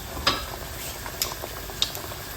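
Thai fish cakes (tod man pla krai) frying in oil over medium heat give a steady soft sizzle, with a few faint clinks and pops of a utensil scattered through.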